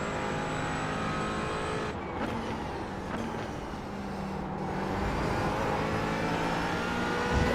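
LMP3 race cars in the iRacing game at Dover Motor Speedway, loud engine roar of several cars passing one after another, pitch sweeping as each goes by, a dense continuous racing drone.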